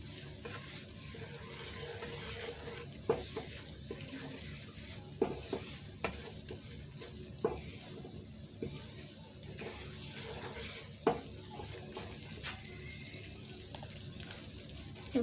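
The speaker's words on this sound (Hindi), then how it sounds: "तो जो ये हम लोग फ्राई मतलब भून रहे हैं ना, इसको ये नीचे नहीं लगना चाहिए हमारा" Semolina frying and being stirred in a pan for halwa: a steady soft sizzle with repeated scraping clicks and taps from the spoon, continuous and close, with no talk.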